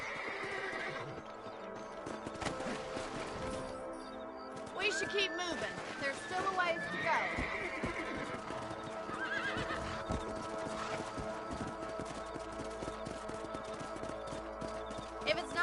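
Horse in Red Dead Redemption giving a loud whinny amid clip-clopping hooves and game ambience, while someone talks over it.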